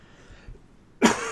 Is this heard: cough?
yes